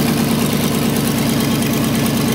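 A freshly rebuilt engine in a custom-built SdKfz 250 halftrack idles with a steady, throbbing low rumble, loud and close and running without a break.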